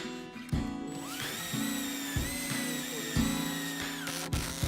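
An electric drill bores a pilot hole in a wooden stair plank, whining up to speed in several close, loud bursts separated by brief pauses.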